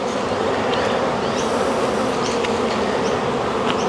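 Honeybees buzz steadily and loudly at an open beehive during a beekeeping inspection, a dense continuous drone close by with no talk over it.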